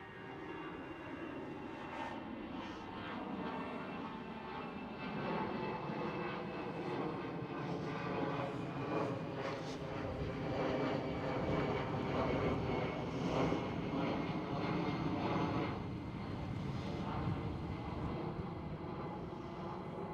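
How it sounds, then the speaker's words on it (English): An EasyJet jet airliner takes off at Amsterdam Schiphol Airport, a loud, steady engine roar sustained throughout with a broad rumble and a slight rise and fall, heard from nearby with wind buffeting and no talk. "There is another EasyJet taking off."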